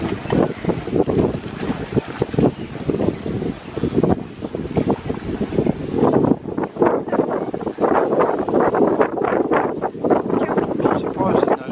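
Gusty wind buffets the microphone beside open water at a pool by the sea, a steady roar with surging low rumbles that stays loud throughout, while voices talk faintly underneath.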